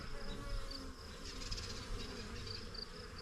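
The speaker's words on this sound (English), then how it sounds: "this is one of my hives, and you can see that they're pretty active. I'm getting buzzed around a little bit." Honeybees buzzing around an active backyard hive on a homestead in early June, a dense continuous hum with individual bees whining past close by.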